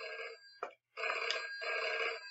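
A telephone rings in the horror video game Deep Sleep, a bright electronic bell in repeating bursts with a short gap between rings, clear and alone.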